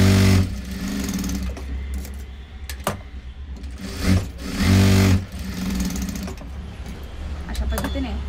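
A sewing machine stitching a tuck on a blouse, a loud close mechanical whir in bursts with brief pauses and clicks between runs.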